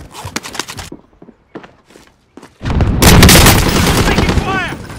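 Gunfire in the video game Warzone, a few sharp separate shots at first, then a sustained, loud burst of heavy firing and blasts that fills the final seconds.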